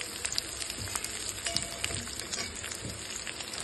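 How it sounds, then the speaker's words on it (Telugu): Onions with green chillies sizzle in a hot pan for an egg Maggi recipe, a dense, crackly frying hiss with scattered pops and faint stirring clicks, close and steady, with no talking. "ఆనియన్స్ వేసాక ఆనియన్స్ కొంచెం ఫ్రై అవ్వాలి"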